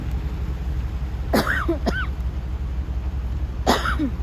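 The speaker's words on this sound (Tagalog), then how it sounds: "sorry na ubo ako" Two or three throaty coughs close by, a pair in quick succession and another a couple of seconds later, over a quiet room.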